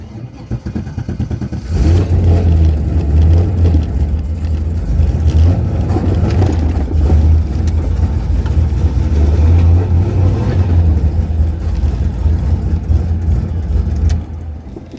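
A drag race car with an open header and an exhaust leak fires up after a moment of quiet, then settles into a loud, rough, lumpy idle that rumbles on unbroken before cutting off near the end.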